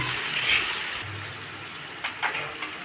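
Chopped tomatoes fry with garlic in a pan for a Bengali katla fish curry, making a steady close sizzle with a couple of brief stirring scrapes near the end.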